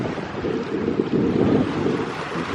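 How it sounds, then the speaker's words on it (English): Wind at a lake park with a beach in Granbury, Texas, a steady broadband rushing buffet against the microphone with a low rumble and no voices. "it's a very windy day at the lake"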